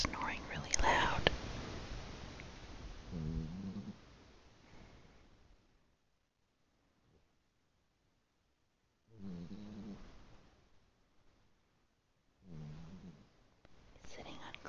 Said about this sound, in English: is snoring really loud